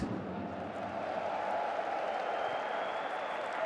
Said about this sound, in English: The fans giving themselves a round of applause